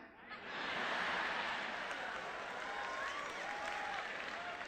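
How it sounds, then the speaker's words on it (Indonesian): A large crowd at a seminar claps continuously, a broad steady wash of applause rising at the start and holding, with faint whoops or cries over it. "buktinya lu tepuk tangan terus"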